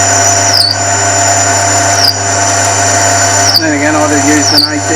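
Machine shop turning of a pulley bore being reamed out with a 20mm reamer, a steady loud mechanical whine with a constant low hum and brief dips and squeals as the cut shifts, running throughout without speech.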